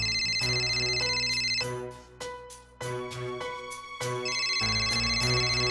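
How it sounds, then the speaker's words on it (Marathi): A phone ringtone for an incoming call plays loudly and continuously as a repeating electronic melody with bright tonal notes, with no voices over it. "पूजाचा फोन आलाय."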